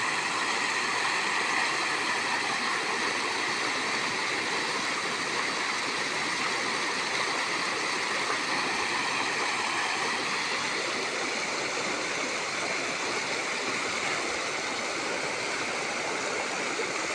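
Released water pouring into a river, a dense continuous rushing roar like a stream or small waterfall, steady and loud from start to finish with no voices.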